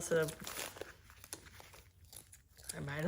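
Greener moss is torn by hand while decorating with vintage and thrifted finds, giving close crinkly ripping and crunching in short bursts, with a person speaking at the start and end.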